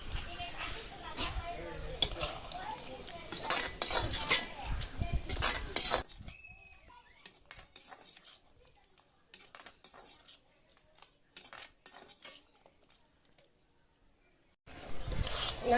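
Ground coconut is poured into mutton gravy in an iron kadai and stirred, with a spoon scraping and clinking loudly against the metal pan for about six seconds. Quieter scattered taps follow, and a burst of scraping returns at the end.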